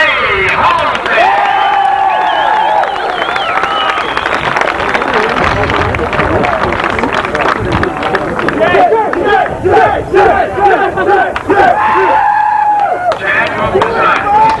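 Crowd cheering and shouting at a 1988 RC car racing event for a modified-class champion, loud and continuous, with a voice over the PA cutting through the noise throughout.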